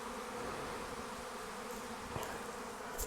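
A swarm of bees clustering at a box gives off a steady, dense buzzing drone that holds even and close throughout, with a brief faint knock partway through.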